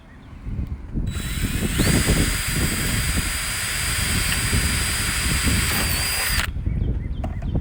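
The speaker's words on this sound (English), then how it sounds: "We drill a hole first for the rivet." A power drill whines loudly and steadily for several seconds as it bores a rivet hole into steel, then cuts off.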